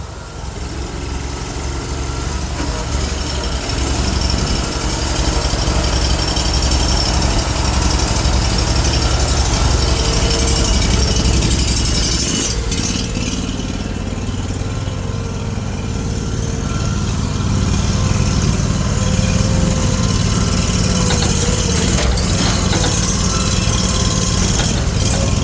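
A Bruteforce Homesteader firewood processor engine runs at steady load, a loud, close, continuous mechanical drone with rattling vibration and slight swells throughout, without any voices.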